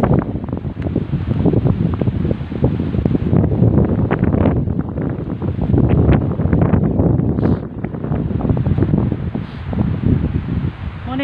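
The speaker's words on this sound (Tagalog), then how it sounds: "Grabe kakusog sa hangin, sobra." Strong, gusting wind roars and buffets the microphone continuously, loud and close, with rustling undertones and no clear talking.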